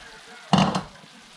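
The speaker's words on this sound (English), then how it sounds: "we're just going to add the bacon and onions in there" Bacon and onions hitting a hot pan for keto cowboy spaghetti, a sudden burst of sizzling and clatter that swells for a moment then settles into a quiet fry.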